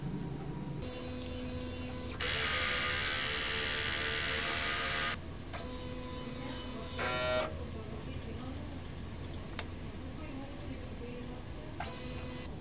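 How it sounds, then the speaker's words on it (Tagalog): A DTF printer whirs and grinds mechanically through a print head cleaning cycle, with motor hums, a loud sustained pumping stretch and ratcheting clicks, while a person talks quietly. "Next po ay head clean."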